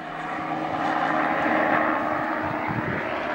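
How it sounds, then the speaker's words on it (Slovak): A filming helicopter flies overhead near a river, a steady droning engine roar that swells slightly in the middle and holds throughout, with no speech. "prišiel natáčací vrtuľník"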